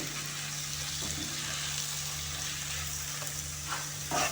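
Gentle, steady sizzling of beetroot salad stewing in a pan over a low hum, with a few faint clicks and a short scrape near the end.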